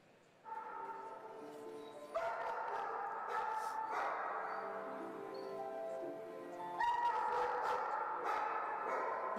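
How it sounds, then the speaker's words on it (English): Several dogs in a kennel bark, yip and howl continuously at a moderate distance, their overlapping cries forming a sustained, wavering chorus that swells louder near the end. "You can hear the other dogs barking in the kennel as well."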